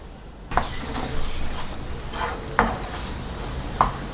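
A spoon stirs thick dates halwa with ghee in a pan over a soft, constant sizzle, with a few sharp scrapes and knocks against the metal.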